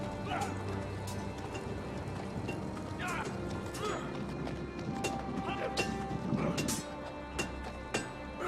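Horse hooves clip-clop at a steady walk, fairly quiet and mixed into busy outdoor background ambience in a medieval-style drama scene.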